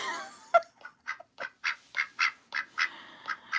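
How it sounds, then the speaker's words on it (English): A duck calls in a quick series of about a dozen raspy, evenly spaced quacks, close and fairly loud, with no talking. "Emmett is one of my birds"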